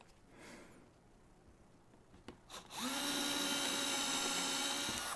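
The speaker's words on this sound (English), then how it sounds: "I'm going to quickly drill the hole" A power drill bores a hole in wood for Euro screws during a wooden box build: quiet handling noises first, then a loud, sustained high whine that runs steadily close by until it stops.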